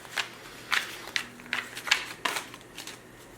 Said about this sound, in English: We're going to shuffle. I'm shuffling,